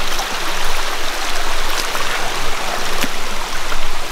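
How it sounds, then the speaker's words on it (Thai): A waterfall and stream at a Thai nature spot pour steadily in a continuous, full-band rush of flowing water, loud and close, with no talk over it. "ถึงน้ำตกแล้วเว้ย"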